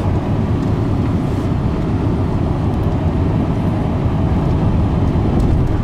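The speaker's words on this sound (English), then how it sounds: "we're ready for a test drive" Steady low road rumble and engine drone from inside a Ford Panther-platform car with an upgraded rear sway bar on a test drive, continuous and fairly loud with no talking.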